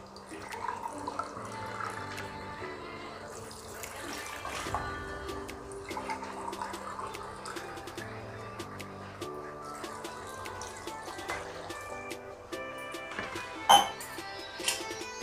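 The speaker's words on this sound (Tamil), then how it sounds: "இப்போ தண்ணி ஊற்றிடலாம்" Water is poured into soaked rice for chicken biryani in a home kitchen, a soft steady trickle and splash running beneath continuous background music.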